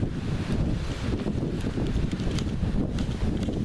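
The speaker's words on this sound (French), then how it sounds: "Alors là, on se prend toutes les rafales de vent." Strong gusts of wind buffet the microphone in Charente, a loud, rough rumble that surges and eases, with faint rustling over it.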